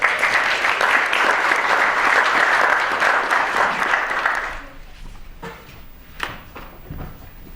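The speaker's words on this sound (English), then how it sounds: "a round of applause for Paul." A lecture audience gives a sustained round of applause, dense and fairly loud for about four and a half seconds, then cuts off into a quiet room with a few scattered claps and taps.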